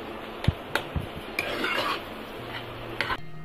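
A spoon stirs moong dal halwa with mawa in a pan, giving several sharp scraping knocks and clinks of metal against the pan, with soft rustling between them and no talk.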